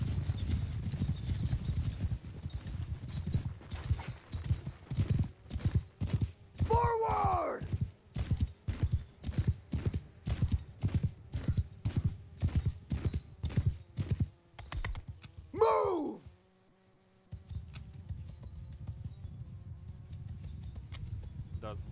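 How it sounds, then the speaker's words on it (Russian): Rapid hoof clatter of galloping horses and a running crowd in Mount & Blade II: Bannerlord, dense and continuous, with a couple of whinnies and a brief drop near the end. "звук вот этот, когда бежит толпа народу, просто шикарен. Толпа народу плюс лошади."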